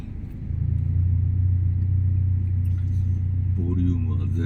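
Road traffic heard from inside a vehicle stuck in city traffic: a steady, loud low engine and road rumble that swells in and holds throughout, with a brief higher tonal sound near the end.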